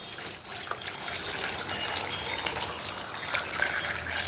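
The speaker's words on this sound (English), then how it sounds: "Let's pour it back in." Plant-based milk is poured back into a container in one continuous splashing, gushing stream, close and fairly loud, with no talking over it.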